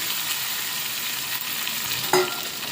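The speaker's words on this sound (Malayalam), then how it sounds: "നമ്മൾ എടുത്തു വെച്ചിരിക്കുന്ന കറിയിലേക്ക് ഈ കടുക് താളിച്ച് നമ്മളിടുകയാണ്." A mustard seed tempering, with fenugreek, sizzles steadily as it is poured into a buttermilk curry, with a continuous crackling hiss and a sharper burst near the end, close and without talk.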